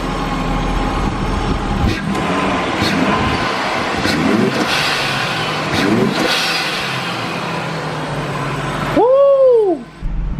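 A Nissan Skyline R32 fitted with an Apexi power intake, warmed up, rumbles loudly and close with revs rising and falling, then a short sharp whistling sweep near the end.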